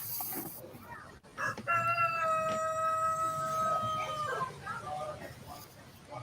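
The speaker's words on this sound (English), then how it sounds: "he's got to be standing right beside me crowing." A rooster crows once, a long drawn-out call, fairly near, over faint background noise.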